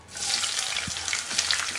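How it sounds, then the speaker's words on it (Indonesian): Oil heating in a wok before frying gives off a steady, close hiss and light crackle, sizzling continuously for a couple of seconds. "Sekarang kita sisihkan, kita siapkan wajan, tambahkan minyak."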